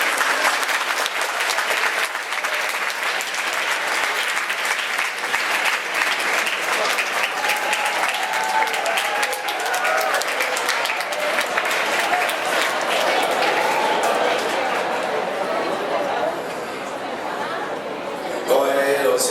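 A school audience applauds to welcome a guest speaker to a talk, a loud, dense, sustained clapping that stays even for nearly the whole stretch, with faint crowd murmur and a brief voice near the end.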